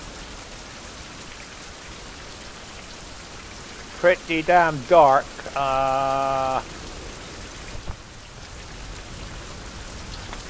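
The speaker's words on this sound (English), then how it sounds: "Hopefully that rain will stop." Rain falling in a survival video game, a steady soft hiss of drops throughout, with a short burst of speech midway and a brief tonal game sound following it.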